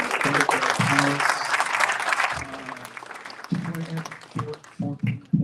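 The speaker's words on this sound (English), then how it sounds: "Let's give another round of applause for our very wonderful panelists" Audience applause for panelists at a panel discussion on Palestine and Israel, strong at first then fading, with voices and scattered speech coming through as the clapping dies down.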